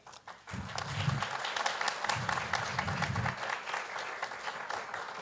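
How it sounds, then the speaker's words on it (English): Audience applause at a science pitch competition in Ecuador, starting abruptly and holding steady and fairly close, with some low thumps like footsteps under the clapping. "A big round of applause for Emilia Moreno"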